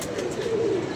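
A flock of about twenty-five pigeons coos in low, rolling calls as the birds are let out, close by and steady, with no talking.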